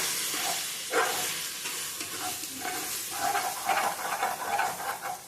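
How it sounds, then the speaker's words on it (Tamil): Spices sautéing for chicken biryani in a pan: steady soft sizzling with spoon stirring scrapes and light clinks, close and moderately quiet, with no talking. "நல்லா அடி பிடிக்காம வதக்கிட்டு"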